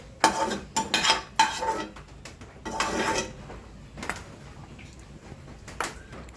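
Cooked taro stem curry with hilsa fish head is scooped out of a wok, with metal utensils clanking and scraping against the pan in several sharp clusters. A few softer knocks follow at close range, with no talking.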